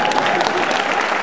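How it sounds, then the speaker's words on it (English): Loud, dense applause from an audience at a teachers' union 50th birthday gala, a steady wash of many hands clapping close by without a break for the whole stretch. "thank you for the round of applause tonight"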